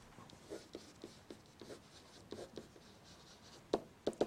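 Marker or chalk writing on a board, a series of short scratchy strokes and taps in an irregular rhythm, close and quiet, with a few sharper ticks toward the end.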